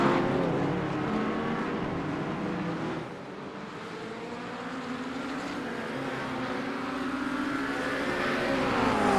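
Race cars lapping a circuit during qualifying, with a lapped car chasing another: sustained engine roar with several overlapping revving tones that sweep up and down, a short dip in level partway through, and no talk.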